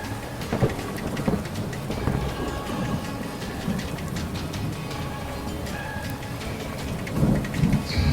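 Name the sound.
rain falling in animated story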